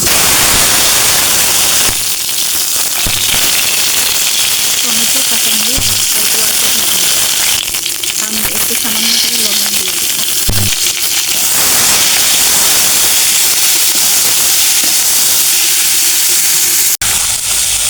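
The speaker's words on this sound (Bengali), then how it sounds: "টমেটোগুলো ভেজে নিব" Tomatoes fry in a pan on a home stove with a loud, continuous hiss and sizzle that runs throughout, and a voice speaks briefly under the noise.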